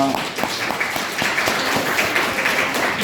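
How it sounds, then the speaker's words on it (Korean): A church congregation applauds to welcome a member during a Korean worship service. The clapping is moderately loud and continuous, with a voice or murmur running underneath. "박수로 환영합시다"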